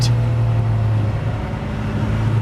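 A Mazda MX-5 race car at Croft circuit in the 2013 BRSCC championship, a steady droning engine note, loud and continuous, with no voices.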